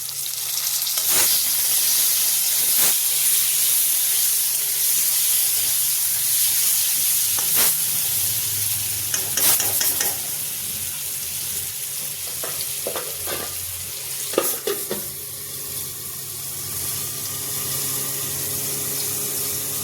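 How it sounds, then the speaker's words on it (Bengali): Potato pieces frying with salt in a pan for a soybean curry, a loud constant sizzle with clattering spatula scrapes and stirring knocks, close and without speech. "এখানে আর একটু নুন দিয়ে আলুটা ভেজে নেব।"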